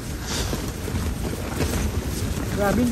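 Strong wind buffets the microphone at a muddy campsite in Cavinti, Laguna, a steady broadband roar close and loud for the whole stretch, with faint voices and a brief tonal squeak near the end.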